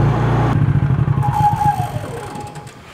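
A Honda EU3000IS generator runs loud and close as its fuel is shut off. The steady engine note gives way to a sputtering, uneven chug that fades and dies away within a few seconds.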